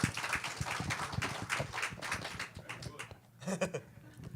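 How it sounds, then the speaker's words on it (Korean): A church congregation claps in applause during a first-anniversary thanksgiving service, a dense wash of hand claps filling the room for about three seconds before thinning into a few scattered claps. "박수로 격려해 주세요."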